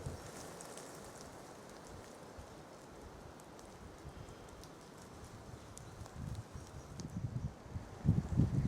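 Soft, steady patter of rain on a surface, fairly quiet and continuous, with a few louder thumps building near the end.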